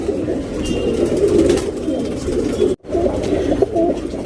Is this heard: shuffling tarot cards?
no